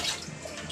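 Water is poured into a cooking pot in a home kitchen, a short steady splashing rush heard close up with no talk over it.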